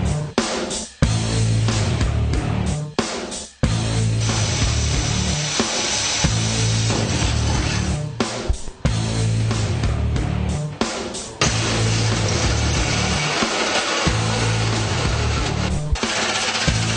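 A power drill bores a hole for mounting a ring, a loud continuous grinding whir broken by several brief pauses as the bit stops and restarts.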